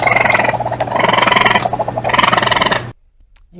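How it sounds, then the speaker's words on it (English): A raccoon's chittering call repeats in three loud, close bursts of harsh trilling chatter over a steady low hum, then stops abruptly into near silence. "That was a raccoon."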